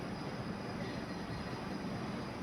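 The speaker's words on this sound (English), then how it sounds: "maybe this is some kind of test train" Metro test train passing through Högdalen station, a steady, nearby rumble of wheels on rail with a faint high whine, continuous throughout and no talking.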